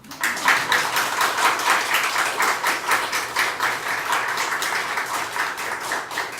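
Steady, dense clapping from a crowd at a political party's youth policy announcement continues throughout, loud and even, with no voices standing out.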